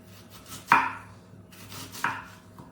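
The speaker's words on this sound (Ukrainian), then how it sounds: "Тож мілко нарізаємо кропчик. Ну а цибулю нарізаємо тоненькими півкольцями." A knife chopping dill and red onion on a board, two crisp, loud chops about a second apart with faint lighter cuts around them, close up and with no talking.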